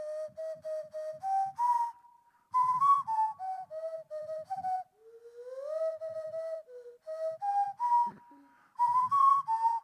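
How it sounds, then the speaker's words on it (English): A nose flute, blown through the nose with the mouth shaping the sound, whistles a bright, wavering melody in short phrases, played solo on stage at a live comedy show. "for those who don't know what a nose flute is, it's an instrument that when you put it underneath your nose and blow out your nose"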